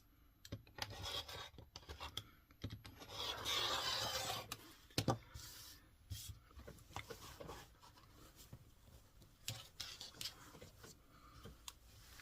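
Rotary or straight cutting through quilt fabric and batting for a jelly roll table runner, soft scraping and rasping strokes in short bursts with quiet gaps, close and fairly faint.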